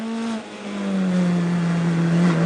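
Race cars lapping Sebring during a World Racing League endurance race, including a BMW among a pack of about 35 cars. Their engines form a loud, steady, close drone whose pitch sags slightly, with no talk.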